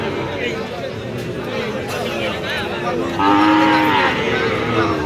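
Sahiwal bulls low at the Aftabganj cattle market, one clear moo rising above steady crowd hubbub about midway, with someone talking nearby throughout.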